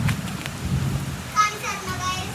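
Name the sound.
heavy rain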